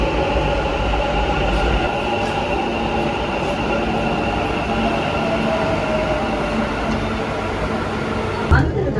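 A Bangalore metro train rumbles along with steady rolling noise and a high whine, heard from inside, with a brief clunk near the end.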